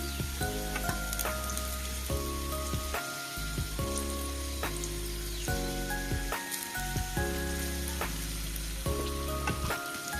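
Potatoes fry in hot oil with a dense, steady sizzle and crackle, sharp spits and pops scattered throughout, close and continuous with no talking.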